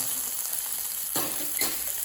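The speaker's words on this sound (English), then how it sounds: "So sizzle them up." Meatballs sizzle steadily as they fry in a pan, a dense close frying hiss with two brief louder bursts as they are turned or shaken.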